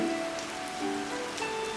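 Steady rain patters on a surface on a wet evening, a soft, continuous hiss with no voices, heard alone at a moderate distance.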